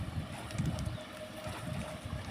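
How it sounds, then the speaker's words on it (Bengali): A large tourist boat passes on a river in the Sundarbans, its low engine rumble steady and fairly faint beneath outdoor wind noise. "দেখুন কত বড় টুরিস্ট বোট যাচ্ছে"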